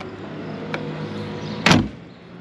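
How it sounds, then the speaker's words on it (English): The rear deck lid of a restored 1965 Chevrolet Corvette convertible shuts with one solid, close thump over a steady low background hum, preceded by a faint click. "And close the deck."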